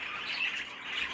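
Birds in an indoor bird room in a shed give harsh, overlapping squawks, a close, steady chorus of raspy calls with no talking.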